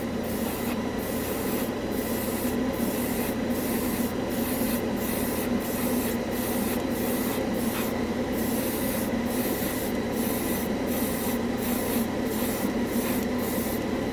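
An airbrush sprays acrylic paint onto a scale model, giving a continuous, even hiss of air and paint mist that holds steady throughout, close by and with no talking.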